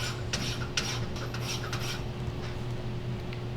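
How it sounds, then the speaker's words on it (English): Hand file rasping over metal while fitting a Ford F100 tilt hood, a steady close scraping texture with a few brighter strokes early on, no talking. "Take the file, lay it flat, just a little bit, doesn't need to be a whole lot."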